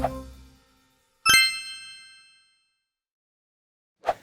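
A single bright bell ding rings out during a bluegrass music pop quiz, decaying over about a second, framed by short fragments of voice before and after.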